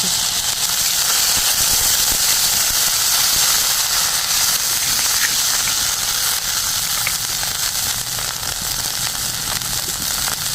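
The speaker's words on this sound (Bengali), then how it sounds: "একটু নাড়াচাড়া করে জল দিয়ে দেবো একটু" Steady loud hiss and sizzle of water hitting hot oil in a pan of frying koi fish with ground mustard paste, a continuous broadband spitting roar.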